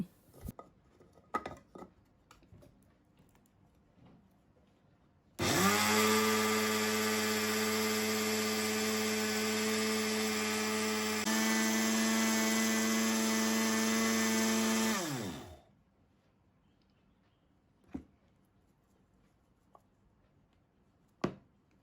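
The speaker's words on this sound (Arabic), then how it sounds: "فهبدا بقى اخد الدقيق والسمسم احطهم في المطحنه بتاعتي واطحنهم" An electric grinder grinds sesame seeds and flour, a loud high whirring roar running steadily for about ten seconds before winding down, with quiet clicks and knocks before and after.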